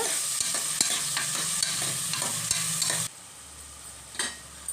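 Tomatoes, peas and onions fry in a pan for methi rice, a steady close sizzle broken by repeated stirring scrapes, then dropping to a quieter hiss toward the end.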